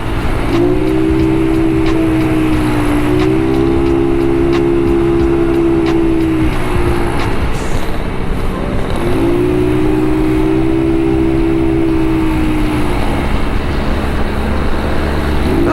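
A motorcycle with a 59 big valve stock pipe on a test ride carrying a heavy rider, its engine droning steadily and loudly with two long rising-and-falling rev swells close up, no talk over it.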